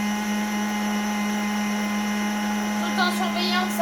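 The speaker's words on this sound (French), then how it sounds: "Donc là, je vais mixer ma compote." A blender purees homemade mango and banana compote for a baby, a steady loud whirring drone with a strong constant hum that roughens slightly near the end.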